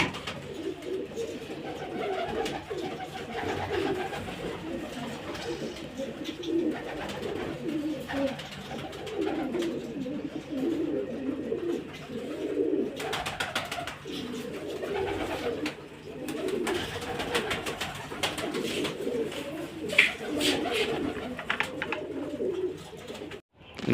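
Pigeons coo in soft, overlapping rounds throughout inside their coop, with light rustling and occasional clatter close by.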